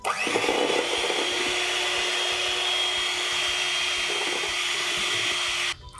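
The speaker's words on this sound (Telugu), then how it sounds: "ఈ సగం కూడా వేసేసుకుని అది కరిగే వరకు బాగా బీట్ చేసుకోవాలి" An electric beater whirs steadily through cake batter as butter melts in, a continuous close motor whine that cuts off abruptly near the end.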